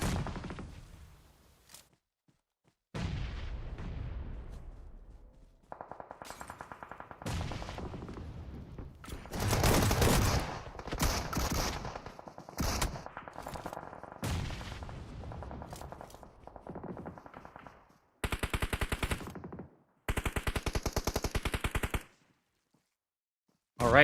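In a PUBG Mobile esports match, bursts of automatic gunfire ring out in rapid sprays. Sharp volleys and sustained rattles are split by brief silences and come close and loud, with no voices.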